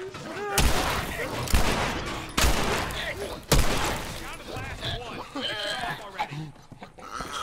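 Several sharp gunshots ring out in The Last of Us, spaced about a second apart, among growls and other game noises, while a player talks throughout.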